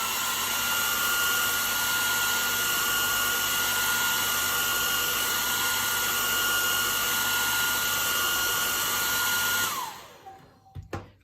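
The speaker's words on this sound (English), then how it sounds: "we can just heat it for 10 seconds using the hairdryer" A hair dryer heating the seam of a rolled candle runs loud and steady for about ten seconds, then switches off and winds down, leaving a few faint handling clicks.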